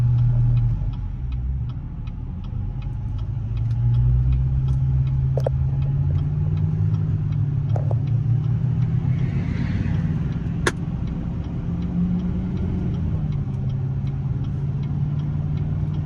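Duramax diesel pickup truck engine running steadily while driving in regular drive, a continuous low drone with faint ticking throughout, no talking.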